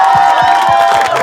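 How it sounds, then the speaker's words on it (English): Studio audience at a comedy panel show clapping and cheering together, a loud, continuous wash of applause with rhythmic claps and whoops filling the whole moment. "You guys are clapping."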